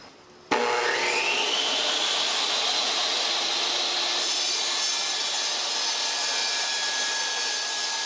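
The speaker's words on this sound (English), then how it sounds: "I'm going to use the miter gauge for my table saw" A table saw with a miter gauge starts up abruptly and cuts through wood. A loud, steady whine and rushing blade noise hold at near-constant level for several seconds, with a slight shift in pitch partway through.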